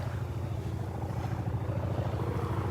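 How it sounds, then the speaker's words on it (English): Old Navy trainer aircraft passing overhead above a Gulf beach in North Naples, a steady propeller-engine drone heard from a distance, fairly faint and continuous, with no voices. "An old Navy trainer flying overhead out over the Gulf."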